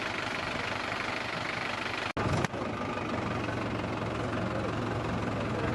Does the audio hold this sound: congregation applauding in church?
no